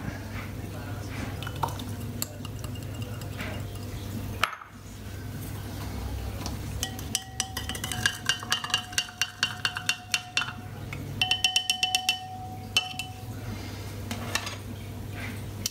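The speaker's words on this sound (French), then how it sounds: "J'ai fait chauffer mon eau chaude pour mieux diluer le bicarbonate de sodium" A spoon clinks against a container while baking soda is stirred into heated water for a homemade cleaning spray, with scattered metallic taps that grow quicker and denser toward the end over a steady low hum.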